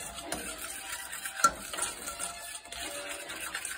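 Brownie pie batter being stirred with sugar in a mixing bowl makes quiet, close scraping and sloshing strokes in an irregular rhythm, with no voices.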